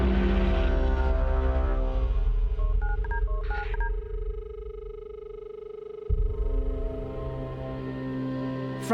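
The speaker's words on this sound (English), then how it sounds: "Peter Rolfe made a phone call that began a dark chapter in Sydney's idyllic northern beaches" A telephone keypad is dialed with a quick run of about eight short touch-tones, heard over a steady low background drone with no talking.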